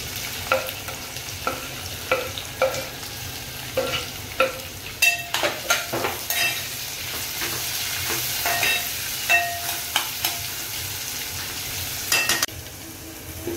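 Chopped onion frying in a hot pan for potato bhaji that goes with masala dosa. A steady sizzle runs throughout, with repeated sharp scraping and clinking taps from the spatula stirring the onions. No one speaks.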